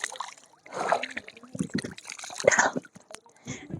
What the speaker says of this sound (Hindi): इसीलिए थोड़ा मुंह धो लिया